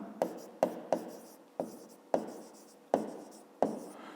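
Pen or pencil handwriting on paper during a fifth-grade maths exercise, a run of short, close scratching strokes, each starting with a sharp tap and trailing off, repeating irregularly about every half second with no talk.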